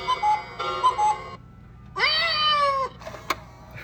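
Cuckoo clocks in a clock shop sounding their built-in animal calls: bright, tonal mechanical chirps and calls in several distinct bursts, loud and close, over a faint steady hum with no talk.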